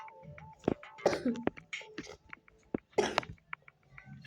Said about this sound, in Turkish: Hep öksürüyorum. Günlerdir öksürüyorum yani.